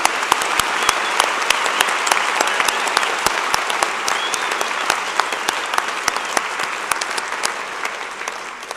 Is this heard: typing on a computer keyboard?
no